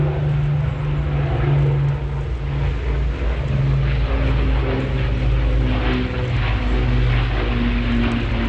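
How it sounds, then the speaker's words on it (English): A Supermarine Spitfire, delivered in 1944 and never used in combat, takes off at the Ayr airshow in Scotland, its piston engine droning loud and steady with a low, throbbing propeller hum throughout. "That's the Spitfire off"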